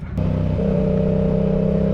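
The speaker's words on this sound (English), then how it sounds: "this has the M4 exhaust on it, so super loud." A Yamaha R7 motorcycle fitted with an M4 exhaust starts with a sharp burst, then settles into a loud, steady, close engine drone that shifts pitch slightly partway through.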